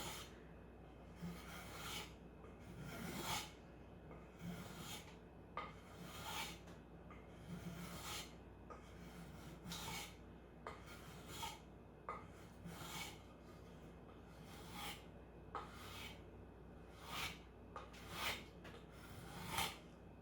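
Repeated rasping strokes of a hand plane shaping a wooden flute, evenly spaced and close, with quiet pauses between passes.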